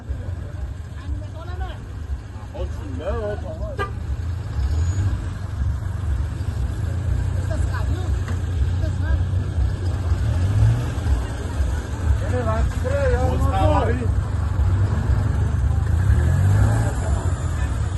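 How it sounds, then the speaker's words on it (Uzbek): A car is driven up on a street in Fergana region, its low idling engine hum swelling slowly as it nears, under steady conversation from people close by. "O, mashina olib kelyapti-da, aka."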